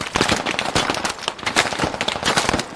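Rapid bursts of rifle fire suppress windows in the military shooter game Squad, dense overlapping cracks and shots rattling close and loud in an irregular, nearly continuous stream.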